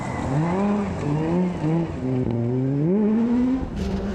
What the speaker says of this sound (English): Jordan and Paul Hone switched to an Opel Adam to contest a number of championships in 2018